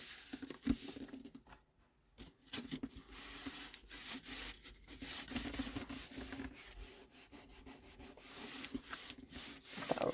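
Glued paper being rubbed firmly down onto Stampin' Up! card for a 6x6 folio album, stuck with Tombow liquid glue one side at a time; steady close scratchy rubbing strokes that pause briefly, then continue.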